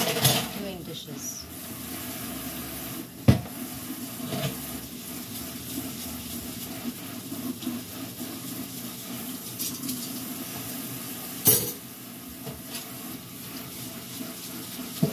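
Dishes being washed at a kitchen sink under running water, with a steady faucet hiss and occasional sharp clinks of dishware, close and fairly loud throughout.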